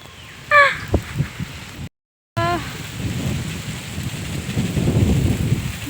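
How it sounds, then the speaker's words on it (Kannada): Steady rain falls outdoors as a broad, even hiss that swells toward the end, after a few brief voices and a short dropout early on. "ಇಲ್ಲಿ ಮಳೆ ಈಗ"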